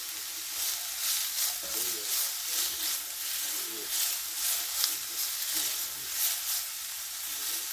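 Vegetables for a roasted carrot soup sauté in a hot pan, a steady close sizzle with soft hiss and occasional stirring scrapes, no talk over it.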